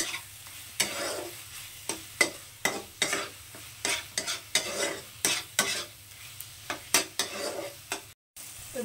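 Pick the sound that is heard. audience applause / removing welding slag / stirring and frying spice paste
stirring and frying spice paste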